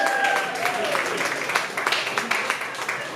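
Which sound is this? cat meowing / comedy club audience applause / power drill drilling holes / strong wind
comedy club audience applause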